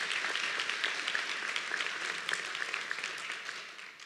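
Crowd at a high school graduation applauding, a dense wash of clapping that stays strong and then gradually thins out toward the end.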